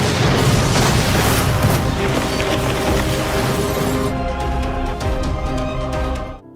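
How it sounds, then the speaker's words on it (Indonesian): A car blows up in a film scene, a loud, dense explosive roar that fills the first seconds and then rumbles on with a heavy, ringing tail before cutting off. "Namun lagi-lagi mobil meledak."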